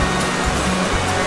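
Creek water rushes over and around a small beaver dam, a loud, steady wash of splashing flow heard up close for a brief moment with no voices.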